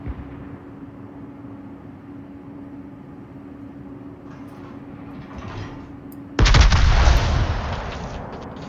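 Heavy naval guns on the battleship Maine in World of Warships, one loud booming salvo erupting suddenly after a low engine hum and fading into a rumbling tail.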